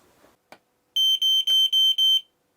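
A smoke detector with a low battery chirps inside a small wooden cabin: one faint click, then five loud, sharp, evenly spaced electronic beeps close by, with no talk.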